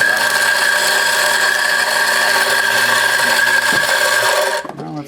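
A Mazzer Super Jolly coffee grinder motor runs with a loud, steady mechanical whine and hum for nearly five seconds, then cuts off abruptly near the end.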